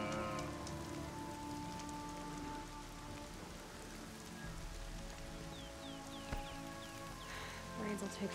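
Steady rain falling in the Horizon Zero Dawn game, a soft continuous patter, faint under a brief voice and a few light chirps near the end.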